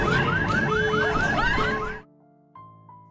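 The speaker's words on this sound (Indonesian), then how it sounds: "Sampai akhirnya alarm mobil itu pun berbunyi, membuat suasana menjadi gaduh" A car alarm goes off loudly with a repeating warbling, whooping siren tone for about two seconds, then cuts out, followed by a couple of short steady beeps.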